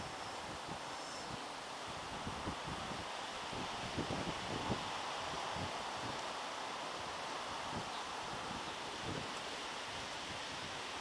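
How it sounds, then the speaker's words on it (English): Steady wind gusting across an outdoor fishery, a constant broad rush with intermittent low buffeting thumps against the microphone, fairly faint and without speech. "Wind's blowing everything everywhere"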